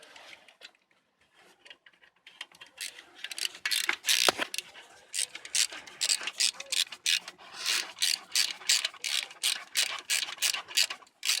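A ratchet wrench tightens a bolt while an ABS sensor is replaced on a car, giving a close series of sharp, rapid clicking bursts that start sparse and become a steady, rhythmic run of strokes.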